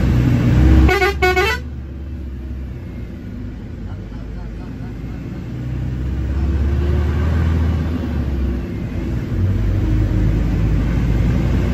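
A car horn sounds a short double honk on a Gujarat road, loud and close, then fades into a steady rumble of passing traffic.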